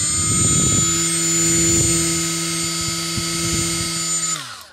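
Milwaukee M12 cordless die grinder spinning steadily with a high, whining tonal hum, loud and close with no talk, then winding down at the end as the motor stops.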